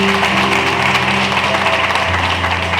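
Audience applause at a graduation ceremony, a dense, loud wash of many hands clapping at once with a faint hum underneath and no speech over it.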